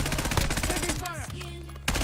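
Rapid automatic gunfire rattles in the Warzone video game, dense and loud, breaking briefly for a sweeping whine before more shots burst back in.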